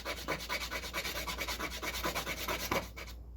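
Sandpaper rubs back and forth over a multi-layer wooden board plug, a close, rhythmic series of scratchy strokes, about a dozen in quick succession, with no voices.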